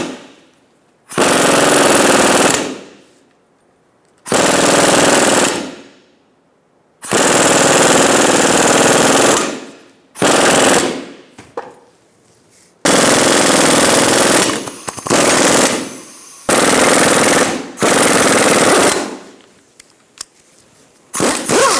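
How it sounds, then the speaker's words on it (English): A ball joint press toolkit is driven by a loud air impact tool to push a lower control arm bushing out of a 2002-2006 Honda CR-V, firing in about eight harsh rattling bursts of one to three seconds separated by short silences. "I have it set up with a ball joint press toolkit, so I can push this bushing out and then press the new one in."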